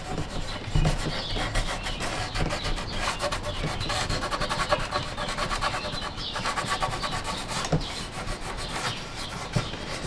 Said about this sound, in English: rub the stars, get any of the loose wood that's sitting on top, loose shavings off